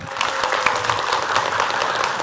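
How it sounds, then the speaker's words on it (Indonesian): A studio audience at an Islamic religious TV program applauds, a dense, steady wash of clapping lasting the whole moment with no talk over it. "tepuk tangan dulu yuk"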